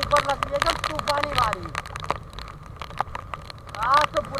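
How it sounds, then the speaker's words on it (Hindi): Heavy stormy rain in Mumbai pelts a rider on a moving motorcycle, a dense, steady rush of wind and spray noise that runs throughout, with a voice talking over it. "तूफानी बारिश हो रही है, तूफानी एकदम जोर का धक्का, बारिश की बूंदे मुझ पर लग रही है"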